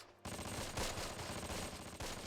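Machine gun fire in the Close Combat war game, a continuous dense burst of rapid shots with rattling peaks, fairly distant and muffled.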